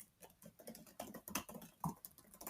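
Quiet, irregular tapping of keys on a computer keyboard as a message is typed, close and faint with no voices.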